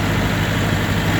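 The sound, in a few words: John Deere 450C bulldozer engine running in second gear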